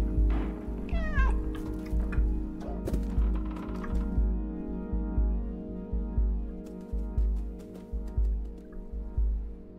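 A cat meows in the video game Stray, one clear rising cry near the start followed by a few softer chirps, set against a steady low game ambience and music.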